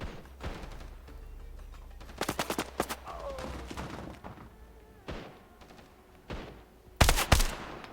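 Gunfire in a competitive ranked match of a shooter video game, several sharp shots arriving in short clusters with a loud burst near the end, over faint game ambience.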